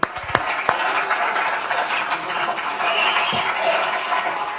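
An audience applauds for a singer on a TV show, with a few sharp claps first and then a steady wash of clapping that carries on to the end.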